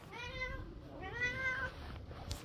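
A pet cat named Sheila gives two drawn-out, whiny meows close by, with a softer sound at the end.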